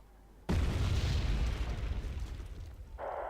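Missile strikes in the real-time strategy game Wargame Red Dragon land as a sudden loud blast followed by a rumbling, crackling roar lasting a few seconds, with a higher whine entering near the end.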